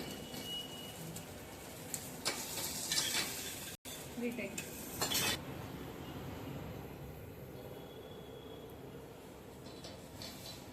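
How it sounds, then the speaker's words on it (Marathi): A stuffed chapati brushed with oil roasts and folds on a pan, giving a soft, steady sizzle with bursts of scraping and turning partway through, fairly quiet and without speech. "थोडंसं तेल लावून फोल्ड करायचं. चपाती व्यवस्थित भाजून घ्यायची स्टफिंग करून."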